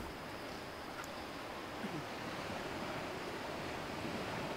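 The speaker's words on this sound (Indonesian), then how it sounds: "Ini anginnya biar turun dulu ya." Steady outdoor wind rushes and buffets the microphone in a broad, continuous wash that swells slightly later on, alone without any talking.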